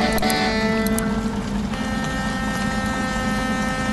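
A Setra double-decker bus engine idles with a steady low hum in Bus Simulator, running from Vijayawada to Visakhapatnam, with rain and wind noise washing over it continuously.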